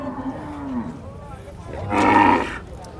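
At a cattle market in Sangola, a single loud moo from a large bull bursts out near the end, preceded by faint background voices and low ambient noise.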